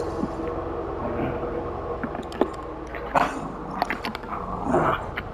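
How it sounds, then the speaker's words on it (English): Dogs snuffle and whimper nearby with scattered soft thumps and rustles, no clear barking. "Sorry if you can hear my dogs in the background."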